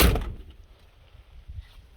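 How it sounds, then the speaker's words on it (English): A car door on a 1993 Ford Explorer shut with a single dull thud at the start, followed by low rumbling quiet. "I didn't shut that door good enough."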